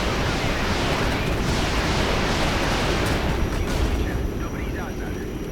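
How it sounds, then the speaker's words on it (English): An artillery barrage in the real-time tactics game Regiments pounds dug-in positions with dense, continuous booming explosions and rumble, loud and sustained throughout, with some talk buried beneath. "I'll artillery barrage these because I think they're just dug in."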